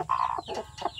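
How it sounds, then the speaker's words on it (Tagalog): Chickens cluck nearby, a hen with five newly hatched chicks that were hatched outdoors, giving three short clucking calls with brief pauses between them. "yan ang manok ng sisiw din namin doon nga nagpisa sa labas"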